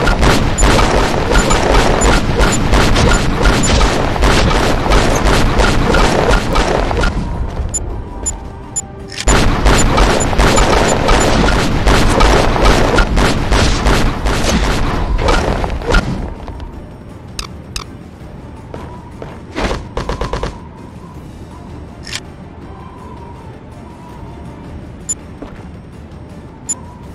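Tank cannon fire and explosions in the video game Desert Storm 2, heavy and loud. A dense barrage of booms and blasts rolls on for long stretches, with brief lulls, then gives way to sparser single explosions and distant rumble.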